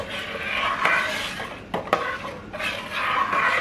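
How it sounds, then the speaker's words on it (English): A spoon stirring egusi soup in a pot, giving continuous scraping and swishing with a few light metallic knocks against the side, close and fairly loud. "Now I'm just going to stir it."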